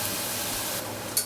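Onion frying in a pan for chicken biryani, a steady close sizzling hiss without pauses, with a brief brighter crackle near the end.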